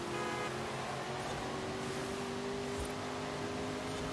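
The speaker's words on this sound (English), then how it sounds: "Driving through very rainy weather here." Car in the Forza Horizon 5 racing game driving through heavy rain, a steady dense hiss of rainfall and road spray over a low humming engine drone, constant and fairly quiet throughout.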